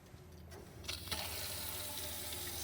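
A sink tap in a camper van, fed by a water pump, opens after a brief quiet moment with a few small knocks. A steady, close rush of running water follows and continues to the end.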